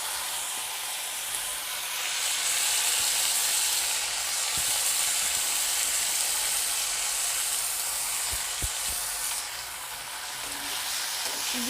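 Dal with ginger paste, tomato and coriander leaves sizzles and hisses in a pan during a vegetarian home cook-up, a steady close frying texture with a few faint clinks and no voices.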